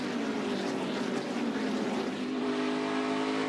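NASCAR Xfinity Series stock cars race at Iowa Speedway, a loud, continuous engine roar from the pack at full throttle, a droning wall of sound without talk.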